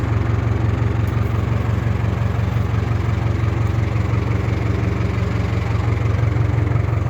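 An engine running at low idle while lifting a shed, a steady close rumbling drone with even vibration and no change in pitch throughout.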